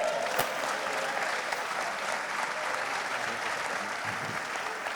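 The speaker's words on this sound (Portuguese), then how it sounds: "Quem recebe, aplaude ao Rei" Sustained applause from a church congregation at a world convention fills the space, a thick continuous patter of many hands clapping at an even, fairly loud level throughout.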